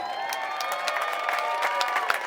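Applause from the crowd at a Little League opening day ballgame, a steady wash of clapping hands with a few scattered cheers, full and continuous throughout.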